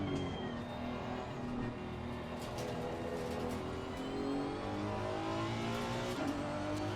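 A Honda NSX GT3 race car in a racing video game at the Nürburgring rises and falls through the revs with gear-change pitch sweeps, its engine droning steadily and fairly quietly throughout.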